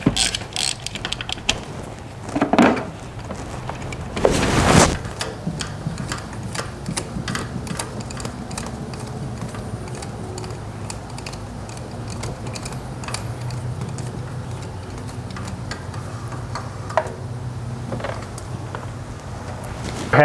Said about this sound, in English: using that same swivel spark plug wrench, put that right down in there. And we're going to need to add an extension right here to get our ratchet on.